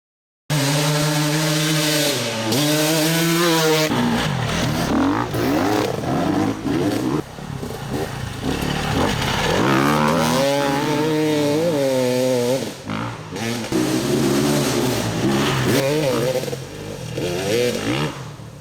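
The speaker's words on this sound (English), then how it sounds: "This is the best four-stroke dirt bike I've ever ridden." KTM 350 EXC-F four-stroke dirt bike engine revving hard and changing pitch as the bike is ridden, loud and close throughout with repeated rises and drops in speed.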